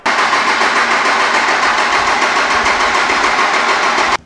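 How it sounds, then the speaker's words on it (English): Diesel engine fitted with delivery valves, cranking over on the starter in a steady, dense churning drone that runs for about four seconds and then cuts off abruptly; loud and close with no talk. "Let's see how long it takes to crank to get this thing going."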